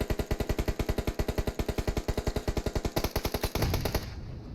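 Rapid automatic gunfire in the battle royale video game PUBG Mobile, a long loud burst of evenly spaced shots that ends in a final blast and a trailing rumble.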